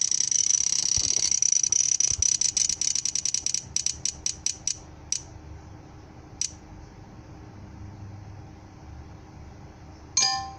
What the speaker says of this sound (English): Now just spin the wheel.